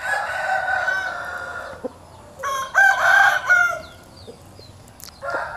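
An eight-month-old chicken rooster in a pen in Bogor crows loudly and close by, two long drawn-out calls separated by a pause, with scattered clucks and brief clicks between them and no talking.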